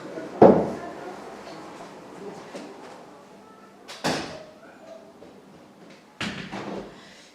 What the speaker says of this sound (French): je vais fermer cette porte, fenêtre